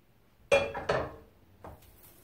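Shrimp drop into a pan in a few quick clattering impacts, one after another, then a fainter clink before things go quiet.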